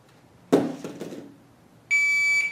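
A short burst of handling noise, then a sharp, loud electronic beep from a shot timer starting a pistol dry-fire drill, lasting under a second.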